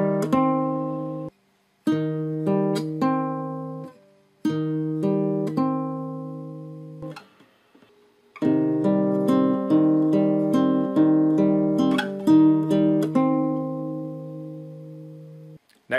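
A guitar plays a slow passage from the Moonlight Sonata, picked notes in phrases with short gaps between them and a denser run of overlapping ringing notes toward the end, close and clear.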